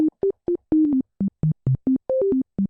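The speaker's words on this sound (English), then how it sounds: "now we have ourselves a sine wave that obeys our rules" Short, clean sine-wave notes from a synthesizer built in Komplete Reaktor play in quick succession at shifting pitches, each starting and stopping sharply with almost no release, loud and alone.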